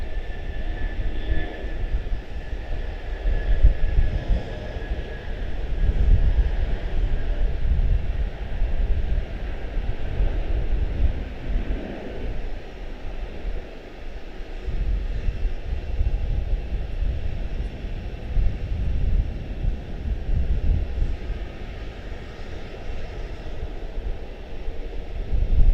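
Airliner on final approach to Charlotte-Douglas International, a steady low engine rumble with broadband wind-like roar holding throughout at moderate distance, no voices.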